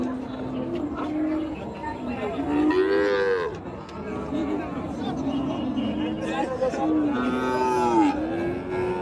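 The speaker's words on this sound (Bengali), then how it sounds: "সার গরু।" Cows moo repeatedly at a busy cattle market, long drawn-out calls rising and falling close by over a steady hubbub of crowd chatter and people talking.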